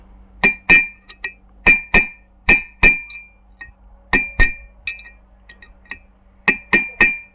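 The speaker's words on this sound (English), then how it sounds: "The idea is basically to gently hammer each side so that the bearing can slowly come out like this" A VW Golf 3 wheel bearing is gently hammered out with sharp metallic clinks, struck in quick pairs and short runs separated by brief pauses, loud and close.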